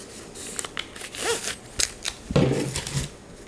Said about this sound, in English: let's open up this bit of packaging